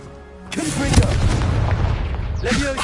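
In Hogwarts Legacy a Confringo blasting spell erupts with a loud, close boom that rumbles on for a couple of seconds, with a short vocal cry before the blast and another brief one near the end.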